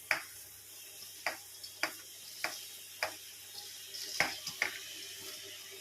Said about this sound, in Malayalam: അരി ഇട്ട് നല്ലതായിട്ടൊന്ന് ഒരു 5-10 മിനിറ്റ് നമ്മളത് വറുത്തെടുക്കണം